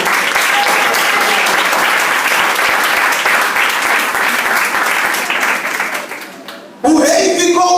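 A church congregation at a youth congress applauds the Lord, with dense, loud, sustained clapping from a large crowd that fades out over several seconds before a voice begins speaking.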